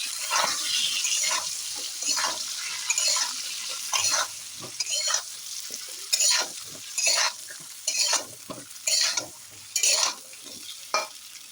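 Eggplant pieces fry in a pan, a close, steady sizzle broken by a regular series of loud scraping stirs roughly every second.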